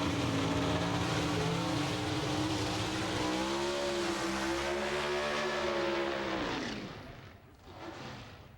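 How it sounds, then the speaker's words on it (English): Pro Stock drag race cars, one carrying a Warren Johnson engine, roar down the strip at a 1997 NHRA event: a loud, sustained multi-engine howl whose pitch climbs steadily before fading away near the end. "Troy Coughlin running with a Warren Johnson motor right now"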